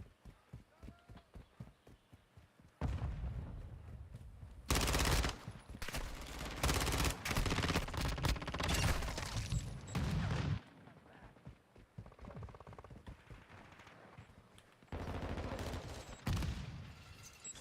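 Multiplayer gunfire in Call of Duty: Modern Warfare 3, with distant single shots at first, then loud rapid bursts of automatic fire in long stretches, broken by pauses and quieter footsteps, with voices talking at times.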